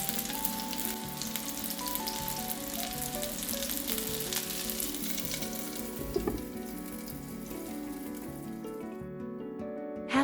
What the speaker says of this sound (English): Simmer under a lid for 10 minutes.